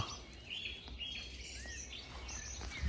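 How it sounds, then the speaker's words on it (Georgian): Birds chirp and tweet in a forest in the morning, scattered faint calls over a soft, steady outdoor background. "ჩიტები რატო ჭიკჭიკებენ?"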